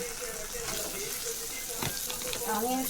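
Onions and turmeric fry in a pan with a steady, close hiss and sizzle, broken by occasional scrapes and stirring clatter.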